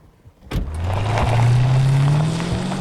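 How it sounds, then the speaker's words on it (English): A 2019 Maserati Levante's engine and exhaust surge in a sudden loud burst, then hold a steady rising drone as the SUV accelerates, heard close and without talk. "the exhaust note is intoxicating, well, you kind of find yourself trying to do it again and again and again"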